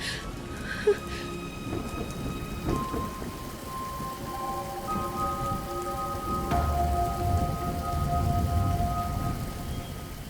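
Thunderstorm with steady heavy rain pattering on surfaces, a low thunder rumble building and swelling louder toward the end, with no talk over it.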